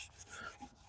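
Green Scotch-Brite pad scrubbing a car's rear end with Dawn soap, a brief, close rasping rub with a few quick strokes and no talking.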